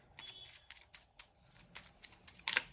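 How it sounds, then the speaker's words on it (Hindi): Playing cards are shuffled by hand in a string of quick, close riffling bursts with short pauses between them, ending in a sharper flurry. "2 कार्ड्स आ गए, दोबारा शफल करना पड़ेगा"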